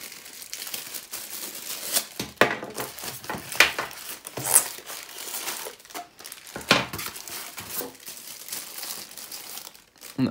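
Packaging for an induction levitation lamp being opened, with steady crinkling and rustling of plastic and cardboard broken by sharper crumples and tearing bursts, close and fairly loud, continuing alone without talk.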